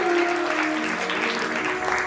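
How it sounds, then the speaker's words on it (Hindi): Loud, steady applause from a seated audience welcoming a revered guru at the opening day of a Shrimad Bhagavat Katha, dense clapping sustained for the full stretch with a faint tonal hum beneath. "आप सबकी जोरदार तालियां अपने स्थान से महाराज जी के स्वागत के लिए।"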